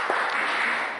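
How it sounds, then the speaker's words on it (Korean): Church congregation applauding during a Korean Sunday service, a steady wash of clapping lasting about a second, moderately loud and with no voices over it. "주님께 영광을 돌리는 박수를 한번 드립시다."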